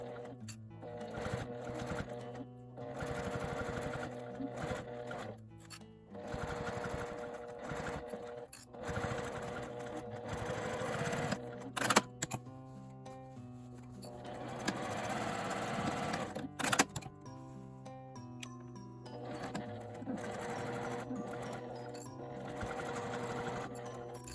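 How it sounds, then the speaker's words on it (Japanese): A sewing machine stitches through thick quilted fabric in quick rhythmic runs, the needle chattering in bursts separated by short pauses, close and steady. "キルティングは厚みがあるので押さえて押すようにして縫っていきます。"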